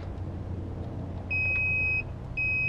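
Two steady electronic beeps from a multimeter continuity test, the first about a second long and the second starting after a short gap, sounding close over a low background hum.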